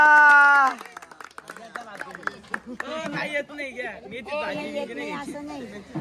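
Wedding guests clapping and cheering after a couple's playful name-taking ritual, a burst of applause mixed with lively chatter and voices throughout.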